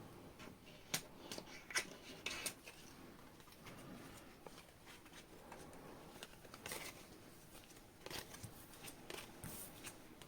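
Tarot cards shuffled in short bursts of riffling and flicking, quiet and close, with soft pauses between the shuffles and faint background ambience.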